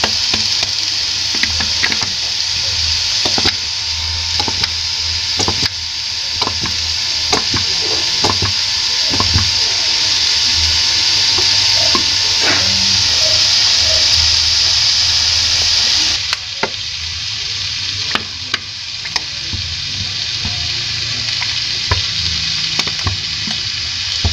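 Potato chicken roulade ingredients stir-fried in a pan with tomato sauce, giving steady sizzling with repeated knocks and scrapes of a utensil, fairly loud and close, with no talk.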